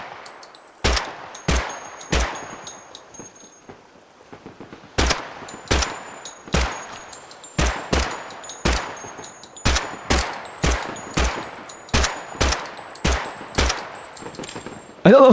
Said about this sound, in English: This is a sniper.